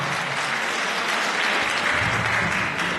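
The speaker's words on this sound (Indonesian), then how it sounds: "Tepuk tangan dong." An audience applauds a blind contestant at a Bintang Batak singing audition in Doloksanggul, with steady, dense clapping that holds at an even level for the full stretch.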